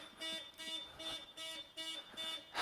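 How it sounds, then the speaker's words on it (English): A car alarm sounding nearby but fairly faint, cycling through repeated pulsing electronic tones in a steady rhythm, with no talking over it. "The car alarm just went off."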